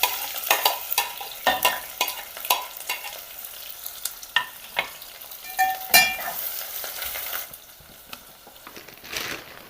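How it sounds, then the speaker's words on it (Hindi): Onions hit hot oil and fry for a chicken kofta curry, a continuous sizzle broken by repeated sharp spoon scrapes and stirring knocks against the pan, loud and close, easing quieter toward the end. "ऑयल गरम हो गया है, अब हम इसमें प्याज डाल देंगे।"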